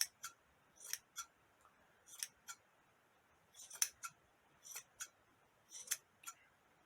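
Scissors snip through doll hair that hangs upside down, trimmed evenly across the bottom: a dozen or so crisp, close snips in uneven clusters with quiet pauses between.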